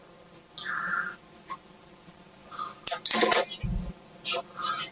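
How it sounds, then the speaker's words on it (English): Small scraping and clinking taps of a teaspoon as baking soda goes into a bowl of flour and cornmeal for cornbread, a few soft scrapes then a brief louder clatter and dull thuds, close and quiet with no talk. "I'm going to add my baking soda to this, which is half teaspoon, so I'm going to put about a teaspoon of baking soda"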